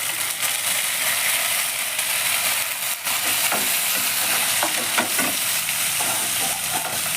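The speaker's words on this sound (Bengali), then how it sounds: "পেঁয়াজটা 1-2 মিনিট একটু ভেজে ভেজে নেব" Grated onions fry in hot oil for a prawn fritter dish, giving a loud, steady hiss with scattered scraping and clicking stirs throughout, with no talking.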